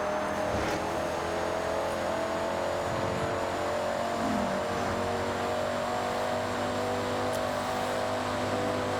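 Racing cars from the Audi and BMW modern saloon class in Forza Horizon 6 hold a steady, loud engine drone at high revs, constant and close, with no talking.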